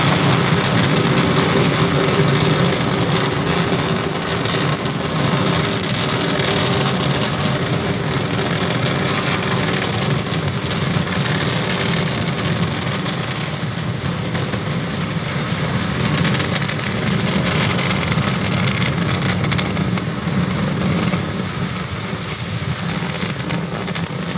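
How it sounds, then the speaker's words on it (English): A loud, steady roar of Falcon 9 rocket Merlin engines during launch rumbles without pause, broad and dense like a powerful engine thundering on continuously with no voices. "We're powering down the Merlin engines to relieve the acceleration"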